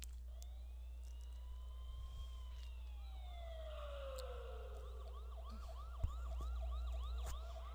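Wailing emergency sirens, one long rising and falling tone joined by faster yelping sweeps, heard at a distance over a steady low hum, with a single sharp knock partway through and no talking.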